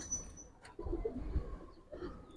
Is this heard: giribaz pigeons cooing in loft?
yes